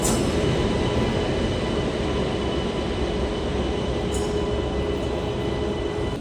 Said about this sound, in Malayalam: ഗുഡ്സ് ലോക്കോ ആയിരിക്കുന്നതുകൊണ്ട് വത്സാദ് ഷെഡിന്റെ ഒരു WAG9 ആണ് നമ്മുടെ സാരഥി